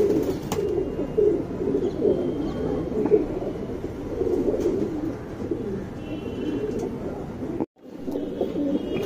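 Guldar hen and Chapparmakshi cock pigeons keep up a continuous low cooing murmur close by, steady throughout, with one brief sharp dropout near the end.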